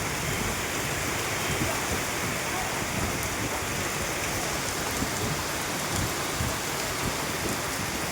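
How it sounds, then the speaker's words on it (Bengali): Steady, heavy rain falls in a village, a dense unbroken hiss of drops striking surfaces that stays constant throughout and fills the whole scene. "দারুণ লাগে বলো বৃষ্টির দিনটা"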